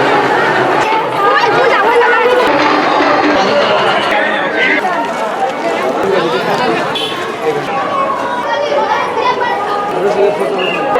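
A dense crowd of women devotees fills a temple and Durga pandal with loud, continuous overlapping chatter and bustle, voices close and far mixing throughout.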